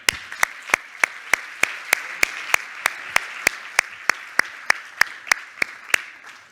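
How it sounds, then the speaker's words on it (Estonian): A festival audience applauds over a steady wash of clapping, with one loud clap standing out at a regular beat roughly every third of a second, close and crisp, with no talk. "Teeme suure aplausi ka neile"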